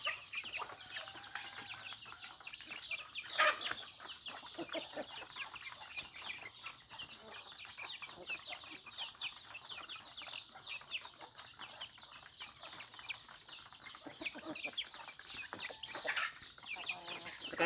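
Free-range chickens and hens cluck and chirp steadily at feeding time on a farm, a dense, faint chorus of many birds that keeps going throughout the clip.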